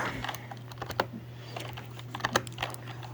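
Brisk typing on a computer keyboard as a command is entered at a PHP command line, with irregular clusters of light key clicks over a steady low electrical hum, close and fairly quiet, with no talking.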